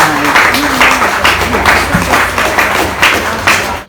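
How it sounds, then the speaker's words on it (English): An audience claps for a panel at a Ghana event, dense close clapping held for about four seconds under some crowd murmur and a few voices, then cutting off. "Please, let's clap for our panel."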